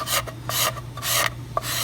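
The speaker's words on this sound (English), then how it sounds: "I'm instead going to scrape the glue off." Blade scraping glue off a thin wooden inlay in a freehand inlay practice piece: a series of rhythmic rasping strokes, about five close, loud passes with brief pauses between them, no talking.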